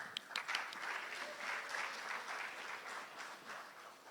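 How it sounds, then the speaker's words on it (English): Audience at a national youth awards ceremony applauding an honoree, a dense, sustained burst of many hands clapping from start to finish at moderate volume. "A round of applause for Miss Dorset."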